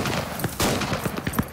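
Covering gunfire in the video game Squad, with a rapid series of sharp, irregular shots cracking in quick succession, loud and close throughout the short burst.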